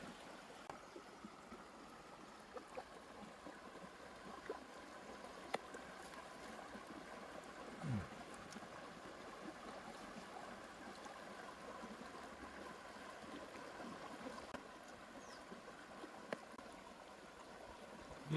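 A forest stream flows steadily in the background, a faint, continuous wash of running water with no voices over it.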